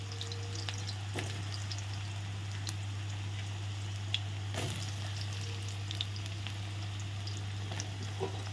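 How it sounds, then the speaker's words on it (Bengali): Potato pieces fry in hot oil in a pan, giving a soft, steady sizzle over a constant low hum, with occasional louder crackles and spatters. "এখন প্রথমে আমি আলুগুলো দিয়ে দেবো আলুগুলো ভেজে নিলে একটু সুবিধে হয়"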